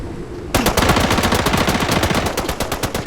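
Rapid automatic gunfire erupts after a brief quiet moment in the video game Arena Breakout, a loud, sustained burst of evenly spaced shots continuing to the end.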